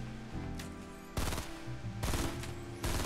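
Gunfire in a Fortnite match comes in heavy, broadband bursts, with dense cracks and booms around 1.2 s, 2.0 s and 2.8 s over steady game music and effects.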